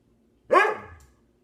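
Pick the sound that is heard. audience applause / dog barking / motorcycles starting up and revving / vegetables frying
dog barking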